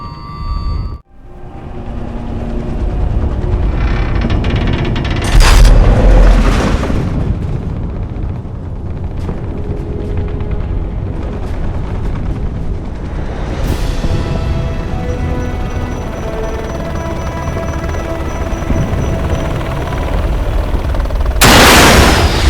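Missile explosions and heavy gunfire in a video game cutscene, a loud, sustained barrage with repeated blasts, swelling booms around the middle and a final burst at the end.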